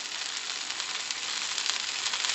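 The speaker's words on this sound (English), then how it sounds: "I'm frying it now." Stuffed brinjal (bharwa baingan), UP style, frying in oil in a pan: a steady, even hiss and fine crackle that continues quietly throughout, with no voices.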